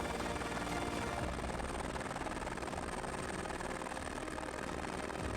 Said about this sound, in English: Very impressive helicopter footage here.